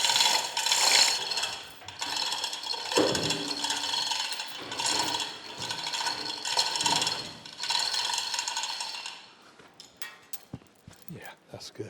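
A hoist ratchets in repeated clicking bursts as straps lift the heavy drive gear of a large cane mill under restoration, with a voice speaking nearby and a few light knocks once the ratcheting stops.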